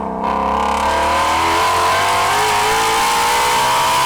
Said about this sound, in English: that totally changes the tone that the Voodoo engine is singing